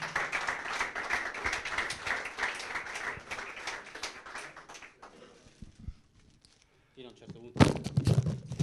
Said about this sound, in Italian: Un applauso a Cristian Pardo.